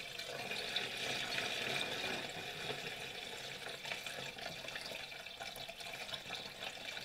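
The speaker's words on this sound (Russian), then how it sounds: "Наливаем точно так же под завязку." Fuel pours through an old funnel into the tank of a snowmobile with a 24-horsepower engine, a steady close gurgling trickle that runs for about seven seconds at an even level with no voices.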